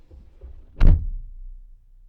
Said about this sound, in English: All right, so shutting the door on the Passat.